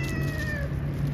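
A cat meows outdoors in cold winter weather, one drawn-out, wavering call standing out close and clear over steady low background noise.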